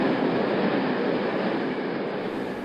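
Train on the Hundred of Hoo Railway near Denton Crossing, a steady loud rolling rumble and wheel roar throughout, continuous and close, with no talking.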